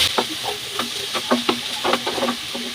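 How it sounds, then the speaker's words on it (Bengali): Pointed gourd bhaji frying in a wok, stirred in quick repeated scrapes over a constant close sizzle, with no voices. "এখন ভাজি এখানে নাড়িয়ে ছেড়ে দিয়ে হবে।"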